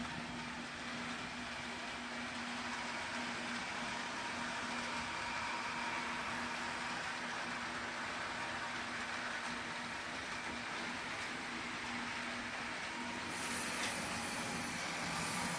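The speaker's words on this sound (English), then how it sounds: "Come to the back of the train table and just let it go around a couple of laps." A model train rumbles steadily around its track with a constant mechanical whir and faint wheel clatter from a noisy car, running on without pause.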